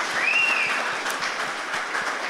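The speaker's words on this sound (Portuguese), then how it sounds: "Pode aplaudir mesmo" A church congregation claps steadily, a dense patter of many hands filling a reverberant room, with a brief high tone sounding near the start.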